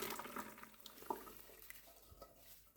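Faint water trickles and splashes as cooked food drains, likely in a colander or sieve, with a soft clatter of kitchenware partway through.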